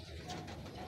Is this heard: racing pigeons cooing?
yes